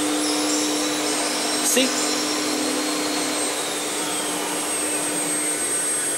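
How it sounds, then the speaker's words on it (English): A SYNTEC-controlled CNC machine runs automatically in MPG sim mode, giving a steady, loud, whirring hum with a sustained high whine throughout and a brief clunk near the start; one short spoken word comes through. "So the machine will run automatically."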